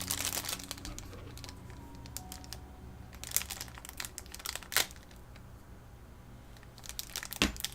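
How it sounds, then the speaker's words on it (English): Crinkling and rustling of a plastic parts bag from a Tamiya Volvo FH12 1/14 scale RC truck kit, close up, in scattered bursts with a few sharper crackles between quieter moments. "I have another bag with what looks like metal gears. Let's throw that bag away."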